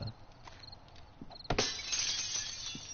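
Glass being knocked out of a window in a survival video game, a sharp breaking crash midway that rings on into a bright, sustained shatter tail.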